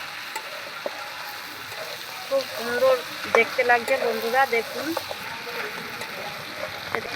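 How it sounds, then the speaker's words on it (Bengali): Goat fat and potatoes frying in a pan, giving a steady close sizzle with occasional stirring scrapes while someone talks over it for a few seconds. "দেখুন ভাজা ভাজা হয়ে গেছে অনেকক্ষণ ধরেই কষিয়ে রেখেছি"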